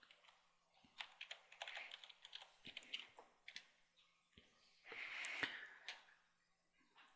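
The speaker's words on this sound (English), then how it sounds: "So key in your username and password you selected." Username and password being keyed into a computer keyboard: quick bursts of close, crisp key taps with short pauses between runs, and a louder flurry near the end.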